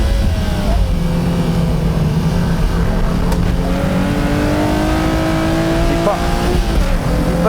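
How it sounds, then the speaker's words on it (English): A Honda S2000 race car accelerates hard around a track, its engine note climbing steadily through the gears, loud and close, with other engines in the mix and commentary running over the top. "Despite the smaller power unit, the S2000 is keeping up."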